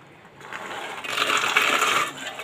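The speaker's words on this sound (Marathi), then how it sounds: "इथे कुकर घेत आहे" A metal pressure cooker is lifted and set down with a few bright metallic clinks and rattles, close and brief, and no one talks.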